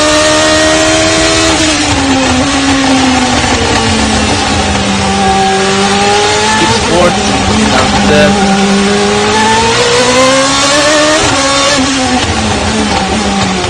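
A loud Formula 1 car engine screams continuously at close range on a circuit, its pitch dropping and climbing as it shifts and accelerates through corners.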